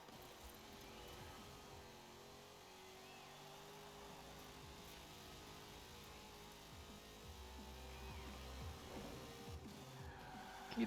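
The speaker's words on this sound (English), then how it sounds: "Keeping the engine revved is good for us here." Ford Mustang Boss 302 muscle car engine in a Forza Horizon 4 rally race, a faint steady drone held at revs with light tire noise, rising a little louder near the end.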